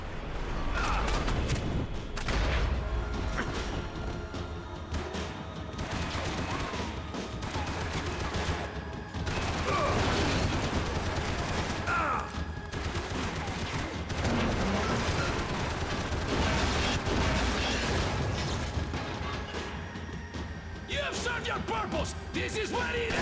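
Dense gunfire from the shooter game Max Payne 3: rapid overlapping shots and bursts, loud and continuous, with brief pauses and chaotic crashes mixed in.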